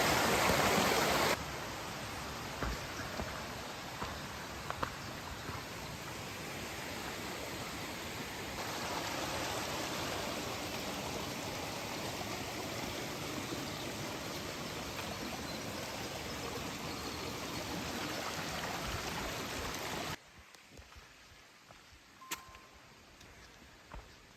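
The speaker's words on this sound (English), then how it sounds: "Nice clean mountain water." A mountain stream on Mt. Moosilauke rushes steadily and close by, a dense, continuous broadband flow whose level shifts slightly before cutting off near the end to quiet outdoor ambience.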